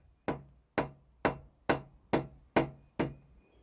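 Seven evenly spaced dull thuds, a rubber mallet striking the end of an LS engine crankshaft at close range, each ringing briefly before a short pause.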